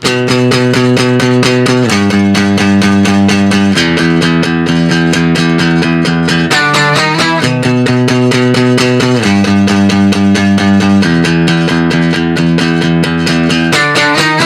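Acoustic guitar chords ring out in a steady, continuous strumming pattern, changing every couple of seconds and cycling back, loud and close with no voices.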